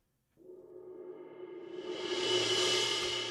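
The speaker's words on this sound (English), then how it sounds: "So we go to our suspended cymbal." Sampled suspended cymbal roll swelling steadily from a soft shimmer into a loud, bright wash over about three seconds, played alone with no voices.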